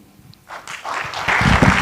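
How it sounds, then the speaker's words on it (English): Audience applause after a panel session at a conference, starting softly and swelling into fuller clapping from a crowd. "Can we give them another round of applause for the fantastic session that we have all enjoyed?"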